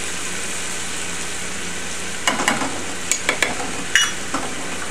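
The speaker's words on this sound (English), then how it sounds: "Give this a quick stir." Capers, olives, saffron and smoked paprika stirred in a pan over a steady sizzle, with several sharp scraping clacks of a utensil against the pan in the second half.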